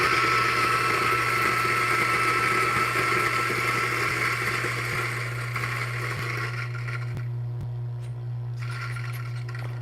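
A Eureka Zero coffee grinder grinding coffee beans, a steady loud motor whir with a constant low hum that eases slightly toward the end, heard alone with no talking.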